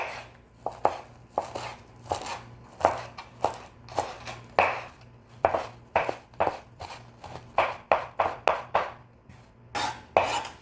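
A knife chopping fresh parsley on a cutting board for chimichurri, with fast, regular close taps in quick bursts and short pauses, no talking.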